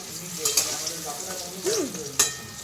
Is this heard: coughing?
no